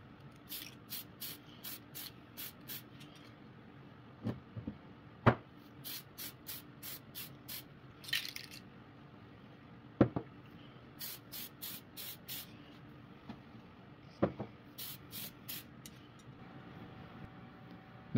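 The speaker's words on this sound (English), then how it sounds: "I'm going to spray a little far away and let some of the black Tamiya paint fall" Black Tamiya paint sprays from an airbrush or spray can held well back from an HO scale model substation, a series of short hissing bursts in quick clusters, separated by quiet pauses with a few faint knocks.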